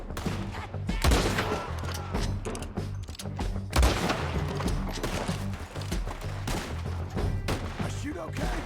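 Gunfire rings out in Red Dead Redemption 2 on PC: repeated sharp shots and volleys, loud and close, with heavier blasts near the start and middle and a busy battle din between them.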